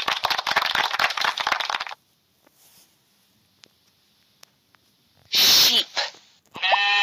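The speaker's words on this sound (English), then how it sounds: "Sheep." Sheep bleating in a children's farm-animal puzzle mobile game: a loud, noisy burst opens, then after a quiet gap come a wavering bleat and a shorter, higher cry near the end.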